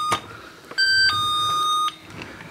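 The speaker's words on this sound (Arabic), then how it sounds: "رايحين بقى عند البيت كده يضربوا الجرس" Toy doorbell chiming during play with a toy police car, two bright electronic ding-dong tones ringing out clearly and close with nobody talking over them.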